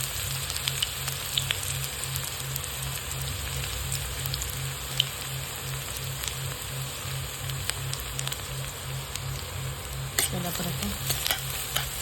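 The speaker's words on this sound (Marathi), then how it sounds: "तेल आपलं इथं गरम झालेलं आहे त्याच्यामध्ये आता आपण कांदा टाकून देऊया" Chopped onion fries in hot oil for a karadi leafy greens dish, a steady close sizzle and crackle lasting throughout with occasional stirring scrapes, no voices.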